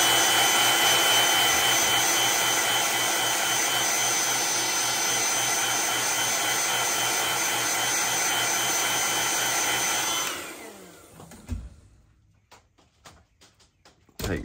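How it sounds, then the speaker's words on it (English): A heat gun drying freshly stippled paint on a custom fishing lure blows a loud, steady whine for about ten seconds, then cuts off, leaving a few faint handling knocks and clicks. "I'm gonna put a little heat on it just to make sure I got that stippling dry."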